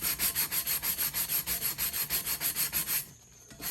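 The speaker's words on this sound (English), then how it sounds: "I'm just taking my little sanding block here and I'm just going to scrub to get the remaining" A small sanding block scrubs a stainless steel tumbler to remove leftover epoxy, glitter and waterslide image, making steady rhythmic back-and-forth rasping strokes, close and loud, about four per second, before stopping abruptly near the end.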